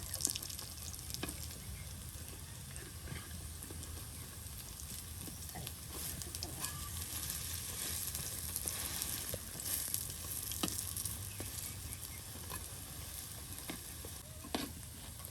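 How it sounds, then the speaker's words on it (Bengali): Lentil fritters deep frying in oil, a steady bubbling sizzle with soft stirring scrapes, close and continuous throughout. "অল্প সময়ের মধ্যে বড়াগুলো একদম মচমচে ভাজা ভাজা হয়ে যাচ্ছে।"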